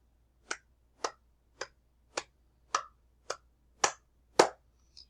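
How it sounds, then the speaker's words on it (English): Eight quick, sharp hand claps in an even, fast rhythm, each a crisp isolated smack close to the listener with silence between, the last one softer. "If you clap at this speed"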